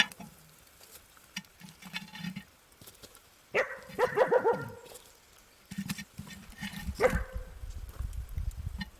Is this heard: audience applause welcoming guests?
no